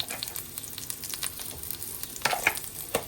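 Onions frying in a pan as onion paste is stirred in for a baim fish dish, giving a steady close sizzle with scraping stir clicks and a few sharper spatters.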